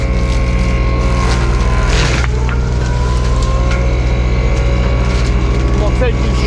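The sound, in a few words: excavator mulcher engine revving back up to full RPM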